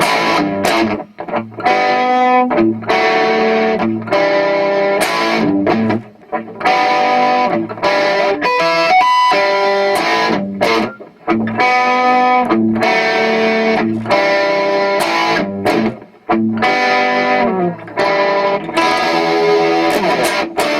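Distorted electric guitar plays a full verse of a song, loud and continuous with dense chords and brief gaps between phrases, no voices.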